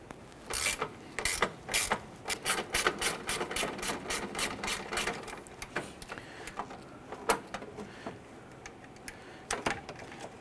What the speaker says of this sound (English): I'm going to use a 12mm gear wrench and remove the bolts holding our horns here.